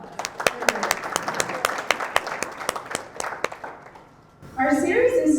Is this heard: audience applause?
yes